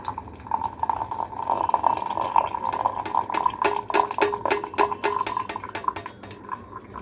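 Hot water is poured into a cup in a home kitchen, a trickling fill accompanied by repeated light clinks of dishes and utensils and a low background hum, with a voice briefly audible.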